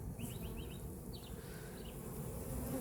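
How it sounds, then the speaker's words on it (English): A swarm of bees hums and buzzes around hive boxes in Southwest Florida, a faint, steady drone with a few brief, sharper buzzes of individual bees passing close. "that's an awful lot of bees"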